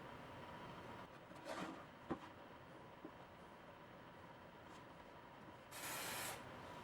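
A single short hiss of CA glue activator spray near the end, while a glued MDF drawer is being assembled in a woodworking shop, following a quiet stretch with a few faint knocks.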